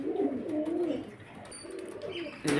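A pair of pigeons coo close by in repeated low, throaty rolling phrases, with a brief pause in the middle and a sharper noise at the end.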